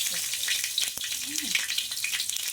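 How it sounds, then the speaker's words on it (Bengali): Ginger with white and black mustard seeds and radhuni sizzles and spits in hot oil for shukto, a steady close crackle with a few sharper pops. "না হলে আদাটা ভীষণ তেলের মধ্যে ফাটে।"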